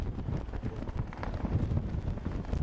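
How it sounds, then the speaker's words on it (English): Strong wind blows across the deck of a catamaran, a steady, rough rumble buffeting the microphone for the whole moment with no break. "Very windy day,"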